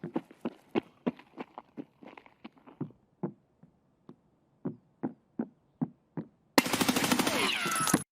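Gunfire in Escape From Tarkov: a string of sharp single shots spaced irregularly, some loud and some fainter, then a dense, loud sustained burst of fire at the end.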